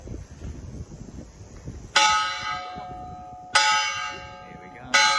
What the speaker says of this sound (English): we should be getting the chimes at 5 o'clock shortly